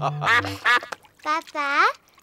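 Cartoon ducks at a pond give a string of voiced, nasal quacks, several short calls then two longer drawn-out ones, close and clear, with brief pauses between.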